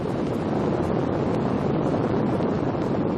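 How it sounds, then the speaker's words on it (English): An Apollo lunar module ascent engine fires on a ground test, a steady, dense, broadband roar that holds at constant loudness throughout without a break, with no voices over it. "This is the noise produced by the LEM's ascent engine during a ground test."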